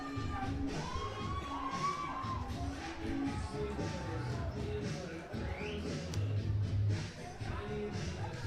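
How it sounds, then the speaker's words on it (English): Rugby crowd at a South African SA Cup match between Valke and Griffons, cheering and shouting after a try, heard as a distant, moderately faint swell of voices and whoops. "the crowd have let you know how they feel about that."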